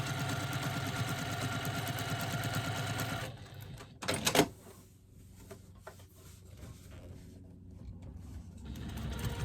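A sewing machine runs steadily for about three seconds while stitching a pouch, then stops with a brief clatter of handling noise and quiet movement afterward.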